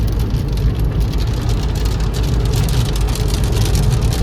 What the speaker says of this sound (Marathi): पाऊस जोरात सुरू झालाय